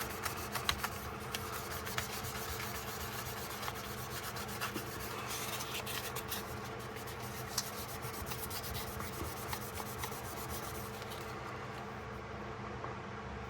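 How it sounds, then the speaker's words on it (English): Steady hand sanding on stainless steel on a 1978 Western USA S-693 knife, a continuous dry rasping scrape with rhythmic strokes, close and moderately loud throughout, no talking. "That needs more sanding."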